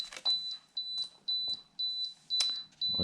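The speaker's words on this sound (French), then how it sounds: "Droite-gauche, pourquoi tu bipes? Tu arrêtes de biper, s'il te plaît." An Outback Fury 3 RC car running on weak batteries gives off a steady series of short, loud, high beeps, repeating about every half second for several seconds without any talking.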